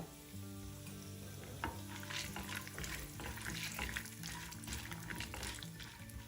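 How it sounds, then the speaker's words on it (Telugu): Peanuts and urad dal frying in hot oil, a quiet continuous sizzle with spattering crackles and occasional stirring scrapes, close but soft, no speech. "పప్పు కొద్దిగా వేగాక దీనిలో పల్లీలు వేసి వేయించుకుందాం."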